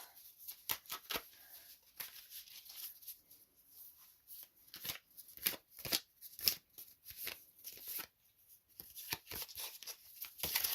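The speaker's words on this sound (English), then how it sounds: "Pull a couple of tarot cards." Tarot cards shuffled and pulled by hand: a quiet, close run of crisp riffling flicks and soft slaps, coming in irregular bursts with short pauses between them.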